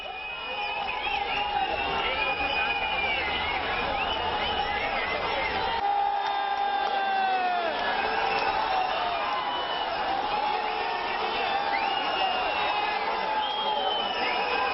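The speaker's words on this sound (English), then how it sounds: "we get the best sound of how the supporters are cheering for Aditya Thackeray and Uddhav Thackeray." A large crowd of political supporters of Uddhav and Aditya Thackeray at Matoshree cheers and chatters continuously, with whistles and shouted calls rising over a dense, steady roar.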